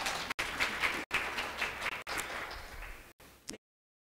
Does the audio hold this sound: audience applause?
yes